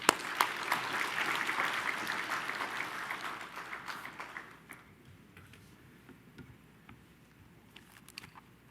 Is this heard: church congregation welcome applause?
yes